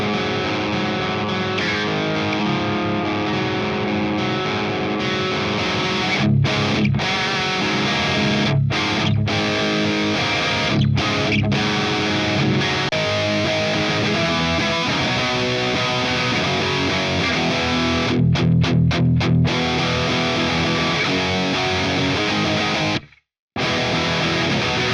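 Distorted electric guitar with a thick, high-gain punk rock tone from an IK ToneX amp model, played loud and continuously with dense chugging chords and a few brief stops.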